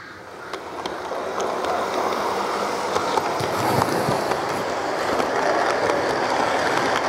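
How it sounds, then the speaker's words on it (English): Steam locomotive 35028 Clan Line departs with empty coaching stock bound for Carnforth Steamtown, giving a continuous rolling rumble and rattle of the train passing at close range, with no speech. "The train departs ECS for Carnforth Steamtown."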